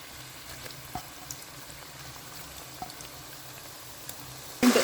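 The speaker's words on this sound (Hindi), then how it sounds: "अब इनको जो हम फ्राई करते हैं।" Kebab rolls deep frying in hot oil give a steady, soft, fine sizzle with a few faint pops, heard close and alone.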